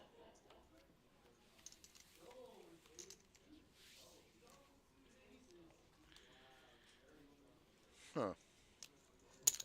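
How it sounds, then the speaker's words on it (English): A pigeon cooing indoors inside a busy poker card room, its soft low coos mixed with background chatter, clicks and room noise. "Oh, there's a bird. Yeah, birds come in here."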